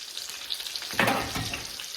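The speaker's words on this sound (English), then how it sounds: "Okay, and we're just gonna saute this a bit" Diced onions sautéing in two tablespoons of hot oil for chicken parmesan, a steady close sizzle that jumps louder about halfway through and keeps crackling with faint stirring, no voices.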